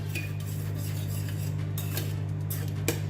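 A spoon stirs toor dal in a metal pot, scraping and clinking against the sides in a steady, close rhythm over a constant low hum from the stove.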